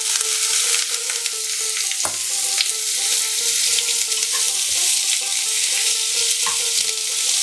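Chopped onion frying in oil with clove and a piece of cinnamon for a fish-head moong dal: a loud, steady sizzle punctuated by metallic stirring clinks and scrapes at irregular intervals, with no one talking.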